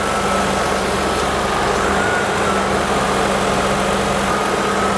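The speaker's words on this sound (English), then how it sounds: "Compressor just kicked on." The air conditioning compressor of a 1998 Ford Contour runs with the engine going, producing a steady, loud mechanical hum and drone with no pauses and no talking.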